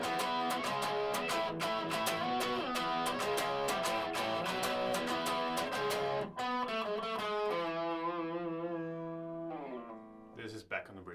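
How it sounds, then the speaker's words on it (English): Overdriven electric guitar on the bridge pickup, a DIY kit-built pedal, plays dense strummed chords for about six seconds, then lets single notes and chords ring out and decay, loud and alone with no talking. "And with a little bit of overdrive, it kind of sounds like this."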